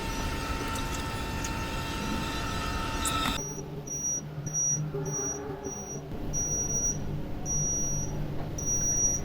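A digital body thermometer gives a series of short, high, clear beeps signalling a finished temperature reading, repeating evenly after a burst of rustling handling noise.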